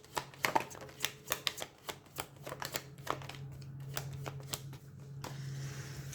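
Tarot cards being shuffled for a reading, a quick run of crisp close riffling snaps that slows into scattered flicks, ending in a soft low hum with no talk.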